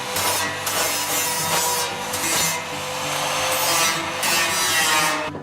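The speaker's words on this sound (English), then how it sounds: "we're going to try to grind this off without damaging it" A metal maple sap tap being ground off at its end with a power tool: a loud, continuous abrasive rasping and whirring, close up, surging and easing in long strokes without pause.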